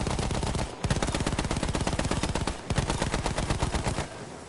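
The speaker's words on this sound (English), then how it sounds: "I'm being shot by everybody." Rapid gunfire in the shooter game Tale of Two Soldiers, loud sustained machine-gun bursts with two brief pauses, close and continuous, with no voices.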